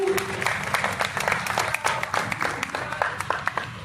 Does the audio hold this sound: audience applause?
yes